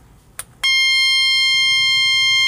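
A homemade electronic buzzer circuit under test suddenly switches on after a couple of faint clicks, producing a loud, steady, piercing electronic tone through a speaker.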